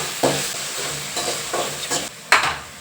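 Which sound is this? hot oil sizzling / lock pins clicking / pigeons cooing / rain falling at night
hot oil sizzling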